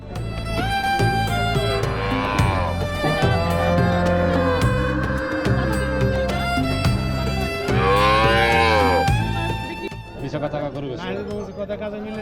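Cattle moo repeatedly at a busy buffalo market in Bangladesh, long drawn-out calls rising over steady crowd chatter and nearby voices, fairly loud and close.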